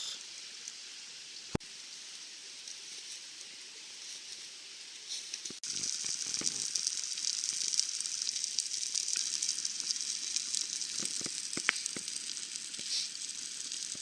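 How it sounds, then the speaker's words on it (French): Raclette cheese melting over a campfire at a winter bushcraft camp, giving a steady, soft crackling sizzle that grows fuller partway through, with occasional sharp clicks and pops and no talking. "le fromage est en train de fondre gentiment et la charcuterie est présente là"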